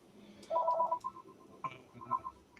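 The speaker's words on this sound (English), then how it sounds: "I apologize for the phone." A telephone chimes faintly in a room, a short run of electronic tones followed by a few quieter beeps, with no talking.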